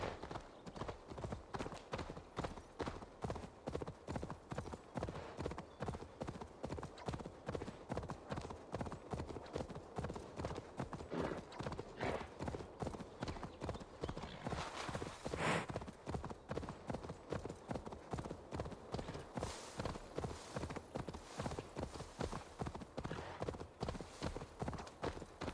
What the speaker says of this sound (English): And get on the horse.